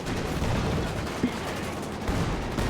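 ZiS field guns open fire in Company of Heroes 2, with a steady crackle of gunfire and a few heavier thumps over a dense battle din.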